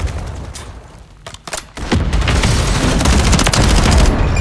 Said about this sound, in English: Grenade fire!